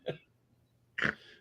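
A person clears their throat and coughs while sick, two short, close, rough bursts about a second apart in an otherwise quiet room.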